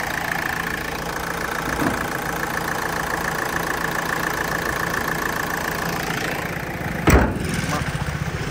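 A 2014 Renault Fluence sedan's engine idles smoothly and steadily up close, a constant low hum with even texture, broken by one brief sharp click near the end.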